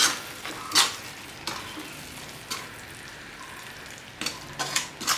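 A spoon stirs garam masala, coriander and cumin powders in a frying pan with a soft dry sizzle, scraping bursts coming in clusters at the start and end and a quieter stretch between, close and with no voices.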